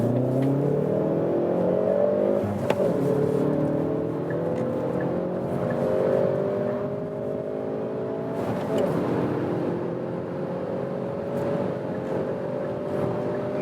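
Hyundai i30 N hot hatch in N mode accelerating hard from about 40 km/h, engine note climbing steadily through the gears with rising harmonics, loud and continuous from inside the cabin with a brief shift break.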